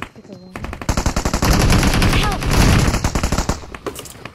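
Rapid bursts of Glacier M4 rifle fire in a shooting video game, loud and close, with dense repeated shots running nearly continuously after a brief opening pause, and faint voices in the background.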